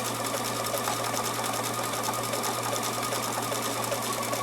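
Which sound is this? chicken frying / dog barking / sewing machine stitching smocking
sewing machine stitching smocking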